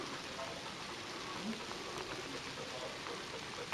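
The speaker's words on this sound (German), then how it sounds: "Und es regnet." Steady rain falls on a hillside hiking trail descending to the Schnarcherklippen granite rocks in the Harz, a dense, even hiss of drops that stays constant and close throughout, with no other sounds standing out.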